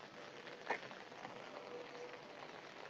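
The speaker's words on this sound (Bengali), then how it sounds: "বৃষ্টির পরিমাণ আবার বাড়তেছে" Rain falling on a flat, waterlogged rooftop, with a steady faint hiss of drops spread evenly throughout and one brief louder patter near the start.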